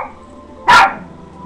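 A single loud, sharp dog bark rings out close by against a quiet background hum, no talking.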